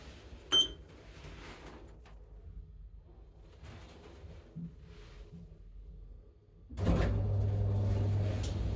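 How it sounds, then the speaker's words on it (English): A short clunk, then quiet mechanical sounds, and finally a steady low hum as the lift doors slide shut and the lift starts moving, in Winchester. "Please mind the doors. Doors closing."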